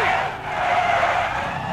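Tires skid and squeal during a double wreck in the racing video game NASCAR 21: Ignition. A steady, loud screech with engine roar runs continuously throughout.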